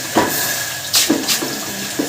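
Water is poured into a pan of hot sugar for tea, giving a short splashing, sizzling burst with a few bubbling spurts, close and fairly loud.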